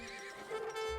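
A brief, faint whinny from Uhlan cavalry horses in Age of Empires 3, a single wavering neigh with a hint of hoof clatter underneath.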